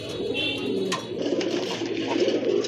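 Red Bombay pigeons, a large breed kept in a breeding pair, cooing in low rolling murmurs close by, with a faint higher chirp cutting in briefly; no talking.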